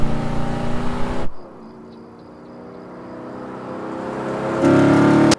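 A car engine roars loudly, cuts to a quieter whirring drive that slowly builds, then surges again into a loud rev before stopping abruptly as the car speeds toward chain spikes.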